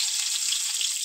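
Chopped onion hits hot oil already popping with whole cumin seeds, giving a close, steady bright sizzle with no voices over it.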